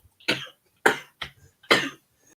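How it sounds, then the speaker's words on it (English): Four sharp coughs in a row, close and fairly loud, with brief pauses between them and no talking. "I shouldn't make myself laugh because it's making me cough."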